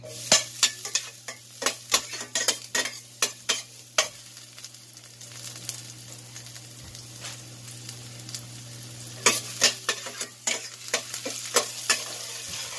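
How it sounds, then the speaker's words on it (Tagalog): Garlic frying in a pan while a utensil scrapes and stirs it in quick repeated strokes, the sharp scraping clicks coming in bursts over a continuous close sizzle and a low steady hum. "Lutuin lang muna natin ating garlic"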